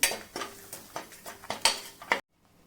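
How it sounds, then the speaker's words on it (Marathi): Spices with turmeric stirred in a pan with the gas off, a quick series of scraping, clattering spoon strokes against metal, close and fairly loud, ending abruptly in silence. "आता हे छान परतून घ्यायचे आपण"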